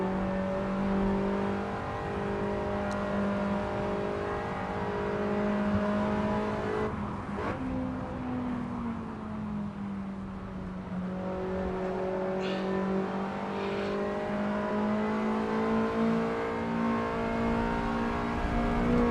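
Lancia Delta S4 Stradale engine in Assetto Corsa holding a steady, loud drone with harmonic layers, dipping briefly and then climbing again as the car drives on street tyres, with faint tyre noise and no talk.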